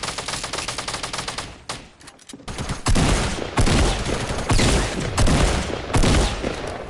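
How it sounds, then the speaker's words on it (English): Rapid bursts of automatic gunfire in the Fortnite console video game crackle in loud, dense volleys, with a brief lull before several more heavy, sustained strings of shots, no talking over them. "Yeah, I hear shots."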